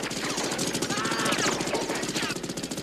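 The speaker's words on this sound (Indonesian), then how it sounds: "seketika diberondong tembakan dari arah kapal perang Vietnam" Rapid, dense bursts of movie gunfire from a warship rattling continuously with a mechanical rumble, loud and chaotic, with voices mixed in beneath.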